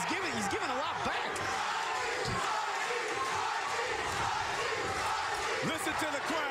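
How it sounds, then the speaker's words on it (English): Boxing arena crowd cheering and roaring during the final round of a bout, a loud constant wash of voices with scattered shouts, while a commentator talks over it. "Listen to the crowd."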